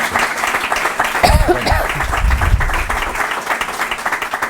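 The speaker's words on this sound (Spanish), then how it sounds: "Venga, otro aplauso." Applause from an audience asked for one more round after a counted set of claps, a broad wash of clapping that swells and lingers, with a voice speaking briefly over it.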